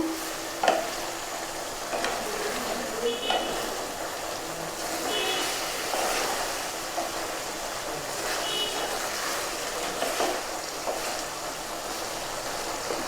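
Cauliflower florets sautéing in a pan while being cooked for a snakehead fish curry, with a steady soft sizzle and scattered stirring scrapes and clinks across the whole stretch, close and fairly quiet.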